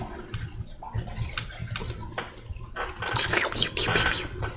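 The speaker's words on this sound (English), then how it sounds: "can you guys hear my dog drinking water?" A dog laps water nearby, a steady run of wet splashing licks that grows louder and busier toward the end, with no talking.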